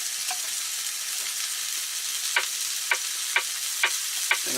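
Mushrooms fry in a pan inside a van, giving a steady bright sizzle with repeated sharp taps and scrapes of a utensil as they are stirred, close and without talk.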